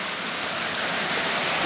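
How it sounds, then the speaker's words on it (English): Steady broadband rush of flowing water from a river running nearby on the way down from Exmoor into Porlock village, continuous and even with no voices. "River flowing by."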